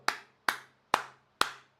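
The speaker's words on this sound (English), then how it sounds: "Seriously, round of applause." One person claps four times in a slow, even rhythm, each clap crisp and close against near silence.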